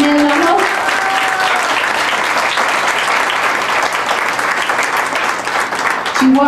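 Loud, steady applause from an audience at a school kindergarten dance performance, sustained for several seconds and filling the room, with a few voices faintly mixed in.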